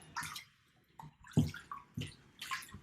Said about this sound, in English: then you want to just rinse your hands just to get rid of the sugar